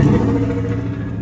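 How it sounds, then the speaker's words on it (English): A V8 car engine revs briefly up close, a deep throaty rumble that starts loud and eases off over about a second. "That is a V8, by the way."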